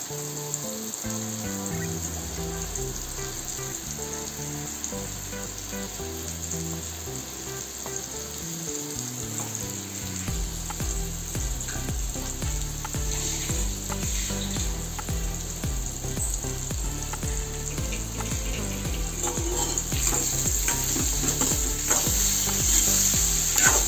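Grated coconut fries in a pan for a sweet pumpkin dish, making a continuous, even sizzle that grows slightly louder over time beneath steady background music, with no voices.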